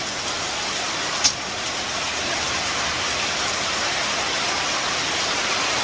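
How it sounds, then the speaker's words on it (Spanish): Heavy rain from a strong late-season storm roars as a steady, dense hiss throughout, with one brief sharp click near the start and no talk. "Cuando hay estas tormentas que ya son las últimas, se vienen bien fuertes"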